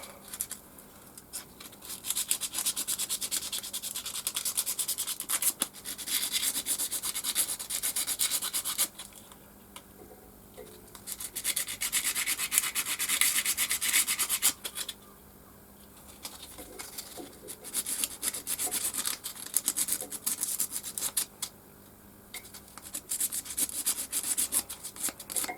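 Pen parts are scuffed by hand before gluing, heard as several long bursts of close, dry rubbing and scratching with short pauses between them.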